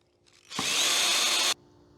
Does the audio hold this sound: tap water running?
no